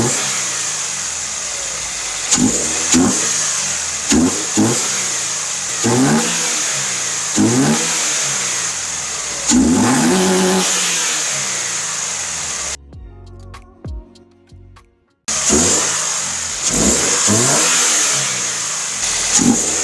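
A Scion FR-S engine fitted with an Injen cold air intake revs repeatedly in loud, rising bursts over a steady idle, with a brief near-silent gap before the revving resumes, all close and without voices.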